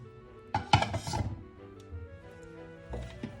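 A utensil stirs veal blanquette with mushrooms and pearl onions in a pot, making a burst of loud scraping clanks, then quieter scrapes and a final short clatter.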